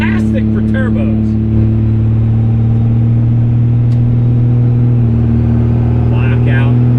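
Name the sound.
1000HP Cummins diesel truck accelerating hard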